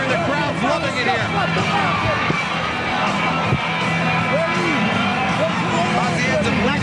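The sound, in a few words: boxing crowd cheering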